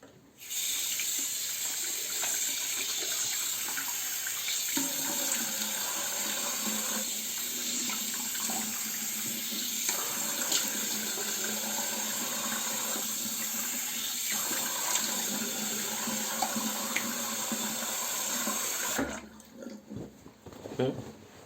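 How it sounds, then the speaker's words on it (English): Tap water runs steadily into a sink while someone washes their face after a shave, a loud continuous splashing stream with small irregular splashes, cutting off near the end. "So I'll wash my face"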